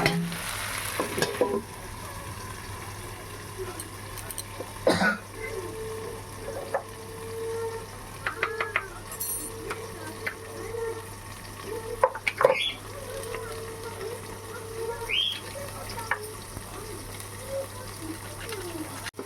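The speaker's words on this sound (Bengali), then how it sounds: "আবার আমি একটু সবজিগুলো নাড়াচাড়া করে নেব" Taro, potato and eggplant frying in a pan are stirred, giving a low steady sizzle with occasional scraping clatters and spoon knocks at intervals, fairly quiet throughout.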